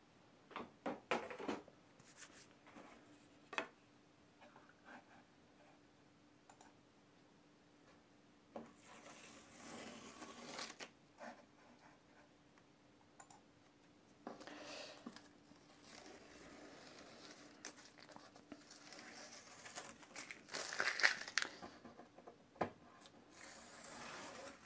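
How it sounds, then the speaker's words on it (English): Masking tape peels off the edges of a finished watercolour painting in several quiet rasping strips, soft scratchy tearing bursts separated by pauses, faint and close. "So let's take the tape off."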